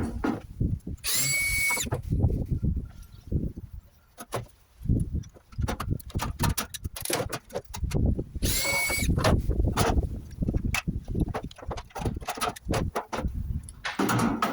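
Power drill whirring in bursts and rivets being set into a sheet-metal downpipe elbow for a double return downpipe, with clanks, metallic handling noises and two brief high drill whines standing out close by, no talking.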